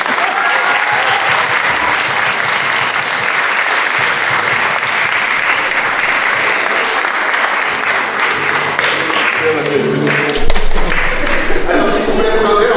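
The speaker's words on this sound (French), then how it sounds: "Applaudissez Dieu." A church congregation at a Mass in the Saint Joseph church applauds loudly and continuously, dense clapping filling the space, with a few thumps and a voice near the end.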